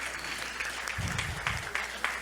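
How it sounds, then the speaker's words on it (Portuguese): Audience at a Brazilian tax officials' congress claps for Nina, a steady patter of many hands filling the room at moderate volume, with a brief low rumble partway through. "palmas para ela"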